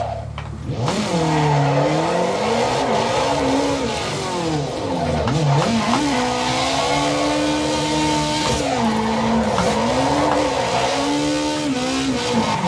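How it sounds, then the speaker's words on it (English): A car doing a donut in the racing game Assetto Corsa EVO, its engine revving and warbling up and down continuously while tires squeal underneath, loud and alone. "Let's do a donut."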